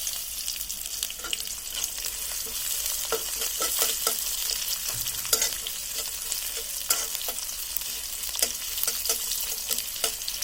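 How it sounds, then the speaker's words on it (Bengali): Chopped onion and garlic sizzle steadily in hot oil with dried chili for a bottle gourd greens dish, with frequent close scraping and stirring clicks over a constant frying hiss. "এখন এর মধ্যে আমরা পেঁয়াজ কুচি, রসুন কুচিগুলো দিয়ে দিব।"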